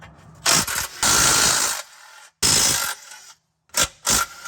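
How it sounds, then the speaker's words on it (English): An impact wrench with a 14 mm socket undoes the drive shaft cover bolts on a 2002-2007 Subaru WRX, with several loud, harsh rattling bursts of varying length separated by short silent pauses. "Now you're gonna take a 14 millimeter on an impact and undo the 6 bolts holding the drive shaft cover on."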